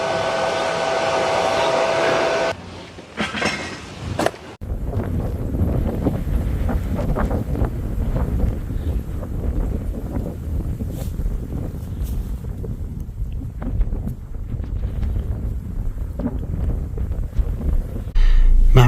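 Strong wind outdoors on a farm in Celep village, a loud continuous roar buffeting the microphone; it cuts out briefly after a couple of seconds, then returns steady and heavy for the rest.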